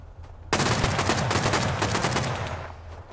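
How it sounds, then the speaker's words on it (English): Loud, rapid automatic gunfire in the game Rust during a night raid erupts suddenly and rattles on continuously for a few seconds. "Gunfire continues to be exchanged"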